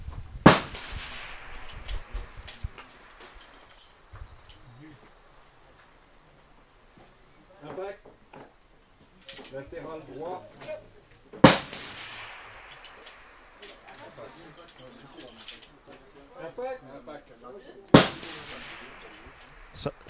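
Three sharp long-range rifle shots ring out at a one-mile shooting competition in Canjuers, France, widely spaced, each with a brief echoing tail, while people talk quietly between them.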